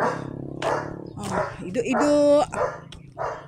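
A dog barks a few times nearby while people talk, the barks mixed in with the voices.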